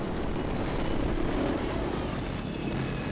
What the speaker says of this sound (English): Thanks for the helicopter.